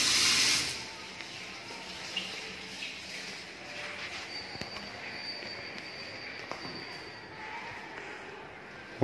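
Water running from a kitchen tap with strong pressure in an apartment, a steady soft hiss and splash that stays even throughout after a brief louder rush at the start.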